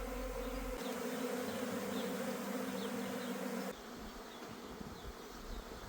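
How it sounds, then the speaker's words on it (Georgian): A honeybee swarm being hived at a riverside apiary below Telavi hums steadily close by, a dense continuous drone that drops slightly in level partway through but keeps buzzing throughout. "то შევა თვითონ ფუტკარი"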